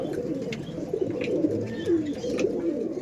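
Madrasi pigeons coo steadily, several low throaty calls overlapping close by, with faint chirps scattered above.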